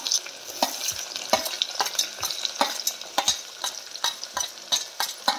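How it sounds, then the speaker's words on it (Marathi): Onion and tomato sautéing in a pan, a steady close sizzle under repeated rhythmic scrapes and knocks of a spoon stirring the mixture. "कांदा आणि टोमॅटो जरा 2 मिनिटं असं परतू द्यायचं ज्यादा"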